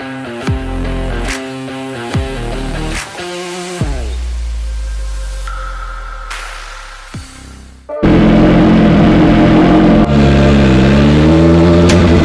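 BMW S1000RR sport motorcycle with a very loud aftermarket exhaust, revved in sharp repeated blips that rise and fall, then held at a steady roaring high idle, close up with no talking.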